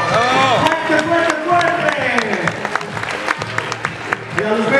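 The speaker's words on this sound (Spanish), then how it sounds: "Terminamos con un fuerte aplauso." Applause from the crowd at a children's cosplay contest runs beneath an amplified announcer's voice, scattered sharp claps poking through steadily while the talk continues on top.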